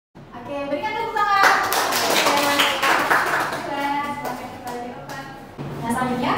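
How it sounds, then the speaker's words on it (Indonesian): A classroom group applauds after a student presentation in a university microteaching session, with a burst of clapping from several hands that fades over a few seconds. A teacher and students talk over it. "Oke, berikan tepuk tangan."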